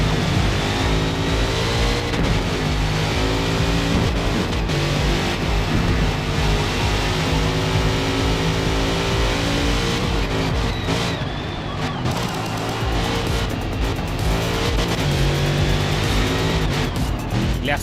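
Race car engine from Forza Motorsport at Sunset Peninsula, running on soft tires, held at steady high revs with gear shifts and brief tire squeal as the car slides, loud and continuous throughout with no talk.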